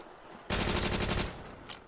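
Rapid automatic gunfire from Call of Duty: World at War zombies mode, a dense loud burst of about three-quarters of a second after a quiet start, followed by a shorter, fainter shot near the end.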